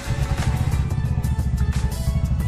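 A Bajaj RE auto rickshaw's small engine idles close by after starting, with a steady, loud, low chugging putter and no voices.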